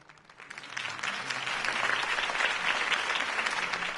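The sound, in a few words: crowd applause after a campaign speech, from the video game Batman: The Telltale Series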